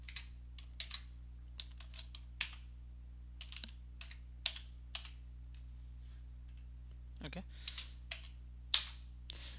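Quiet, close typing on a computer keyboard while writing PL/SQL code: irregular bursts of light key clicks over a low electrical hum, with a few louder isolated taps and no talking.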